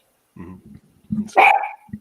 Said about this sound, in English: Oh, my dog is wanting to really bark.